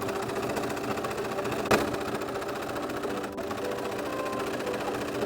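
A sewing machine stitches the centre back seam of a Simplicity S3190 cloak from top to bottom in one steady, continuous close-up run, with one brief knock partway through.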